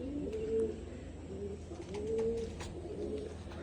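Soft, low pigeon coos repeat in slow rounded phrases, two or three calls over a constant low background hum.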